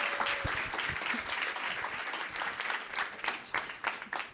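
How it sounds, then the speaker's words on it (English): An audience applauds a team about to pitch live on stage at a bio-based economy challenge: dense, steady clapping from a crowd, with a few sharper claps standing out near the end. "Please give them a big round of applause."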